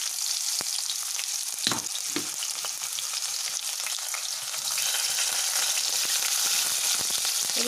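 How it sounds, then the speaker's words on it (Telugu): Chopped onion and green chilli frying in a hot oil tempering, a continuous bright sizzle with scattered spatters and occasional knocks of stirring, fairly close and without talk. "ఇప్పుడు ఇందులోకి ఆనియన్ని యాడ్ చేస్తున్నాను. అలాగే మిర్చిని కూడా యాడ్ చేస్తున్నాను."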